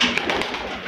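Soft pigeon cooing close by at a mini forest in Lahore, a short burst of low throaty calls with a faint hiss of background noise and no talking.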